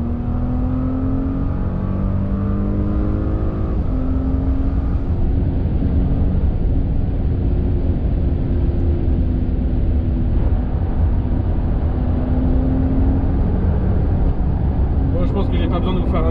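A Porsche Cayenne with an open exhaust accelerates hard in boost mode, a loud, sustained engine roar and rising drone heard from inside the car, with someone talking over it.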